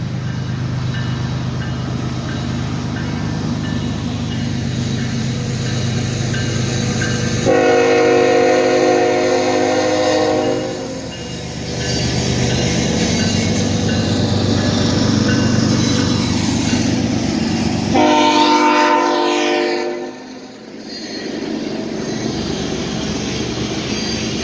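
A train rolls past close by with a steady heavy rumble, and its horn blasts twice in long, loud chords, the second blast fading near the end.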